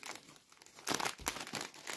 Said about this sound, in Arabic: نفتح بقى رابع كيس